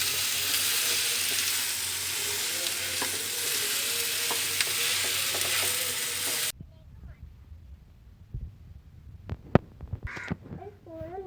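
Ripe banana frying in a pan while being stirred for kaipola, a loud, steady sizzle for about six seconds that drops away to quieter scraping and clicking of the spoon.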